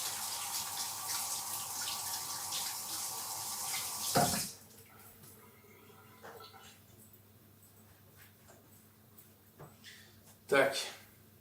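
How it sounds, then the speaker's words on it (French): Tap water runs into a kitchen sink while hands are rinsed between cooking steps, a steady splashing for about four seconds that stops abruptly, followed by quieter kitchen handling noises and a brief splash near the end. "on va se laver les doigts vite fait."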